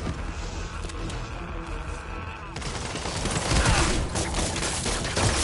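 Gunfire rattles during a Marvel's Spider-Man street fight, bursts of shooting growing denser and louder after a sudden shift midway, with shouting voices in the mix.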